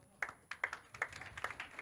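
Faint, steady claps land about every 0.4 seconds, a small group applauding the St. Paul's Church team at a Telugu Christmas gathering in Dubai, with soft background murmur beneath.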